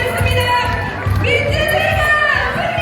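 A street crowd of Daegu citizens at Dongseongno cheers and shouts loudly after the impeachment ruling, with raised voices and excited yells layered over a dense outdoor roar.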